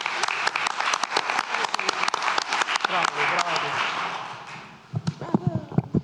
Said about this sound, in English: I'm standing and clapping for you too.